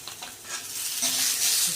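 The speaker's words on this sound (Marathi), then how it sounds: "त्यासाठी ना कांदा फ्राय करायचा आहे आपल्याला ह्याच्यामध्ये फ्राय करून घेऊया" Sliced onion sizzles and crackles in hot oil in an iron pan as it is stirred, a close, rising frying hiss with scraping, no talk.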